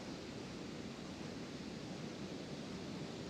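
Steady broadband rush of water from a small waterfall, an even, continuous hiss and roar heard at a moderate distance with no voices.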